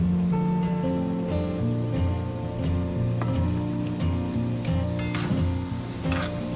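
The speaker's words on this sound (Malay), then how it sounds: "Goreng kuih bawang dalam minyak yang panas." Steady loud sizzling and crackling of onion fritters frying in hot oil, with occasional stirring clinks and scrapes throughout.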